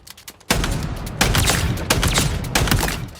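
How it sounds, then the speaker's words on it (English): Shotgun blasts in the Halo Infinite video game, several loud, booming shots in quick succession after a brief quiet start, each with a long ringing tail, close and without talk. "I mean, it's a shotgun."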